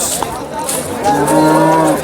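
A water buffalo at a buffalo market in Sangola gives a loud, close, drawn-out moo in the second half, after a stretch of background noise.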